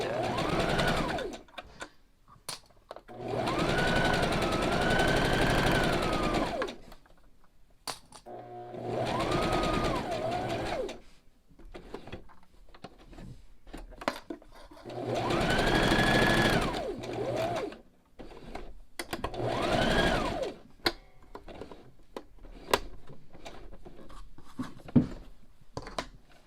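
A sewing machine stitches reusable cloth wipes and towels in four loud bursts of steady whirring, separated by short pauses with small clicks and handling noises.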